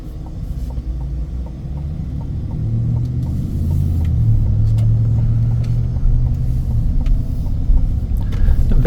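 Steady low rumble of a 2023 Chevy Silverado LTZ V8 while cruising on a road, heard from inside the cab, swelling slightly as it accelerates.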